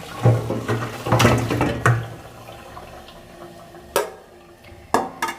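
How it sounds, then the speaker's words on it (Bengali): Mutton water is strained through a metal strainer with pouring and splashing, along with rattling clatter and several sharp knocks against the strainer and vessel. "এই যে একটা স্ট্রেনারে আমি জল সমেত ছেঁকে নিচ্ছি।"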